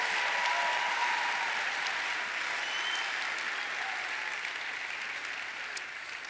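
A church congregation claps steadily for several seconds in a dense, sustained wash of applause that fades slightly toward the end, with no talking over it.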